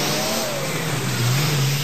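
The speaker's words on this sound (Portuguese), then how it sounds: "Salas de aula sem qualquer isolamento acústico, instaladas em meio a trânsito intenso de veículos." Heavy road traffic passing outside a classroom without sound insulation: a steady, loud engine roar with a car revving and a pitch sweep as it passes, continuous with no voices.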